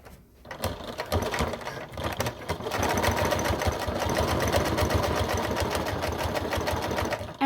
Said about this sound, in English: And I'm sewing at 1/4 inch seam allowance